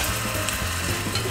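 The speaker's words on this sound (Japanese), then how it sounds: "ふつふつと泡が出てきたぐらいでネギを投入" Green onions and garlic fry in olive oil, giving a close, steady, bubbling sizzle with no break.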